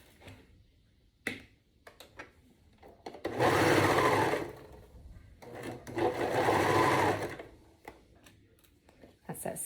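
A sewing machine stitches fabric for reversible swim bottoms in two steady bursts of several seconds each, close and fairly loud, with quiet handling clicks and rustles between the runs and no talking.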